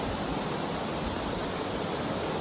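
Waterfall on Blaine Creek at Fallsburg, Kentucky, a continuous dense rush of falling water, loud and steady with no pauses or voices.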